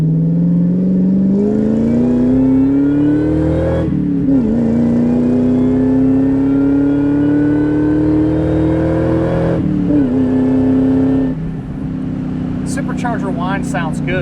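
A supercharged 4.6 engine in a 2002 Ford Saleen drones steadily from inside the cabin, its pitch climbing as it accelerates, with two brief dips at gear changes before settling into a smooth cruise.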